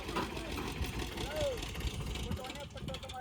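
A JCB 3DX backhoe loader engine runs with a steady low rumble throughout, brought to bury a dead buffalo, while people talk over it close by.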